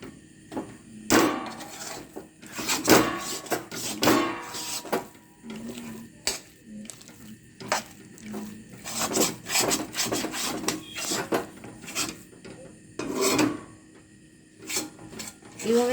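A spoon or spatula stirs a moong dal mixture with pointed gourd and ridge gourd in a pan on a gas stove while the water cooks off, making close, irregular scraping and rubbing strokes that come in bursts with short pauses.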